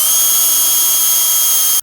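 A power drill bores pilot holes into the side of an RV to mount a slide topper, a steady, loud high-pitched whine running continuously for nearly two seconds before stopping abruptly.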